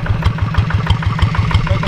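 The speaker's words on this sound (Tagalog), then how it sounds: "Ito yung makina na magpapabuhay doon sa mga isda." An engine that drives an aerator pumping oxygen into a fish tank runs at low throttle, producing a steady, loud, close chugging pulse with a fast even beat and some mechanical clatter on top.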